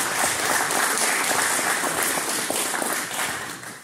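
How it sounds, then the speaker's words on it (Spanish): An audience at an Argentine motorcycle racing championship launch event applauds for Gregorio, with steady, dense clapping from a crowd that holds loud throughout and fades slightly at the end. "aplausos para Gregorio"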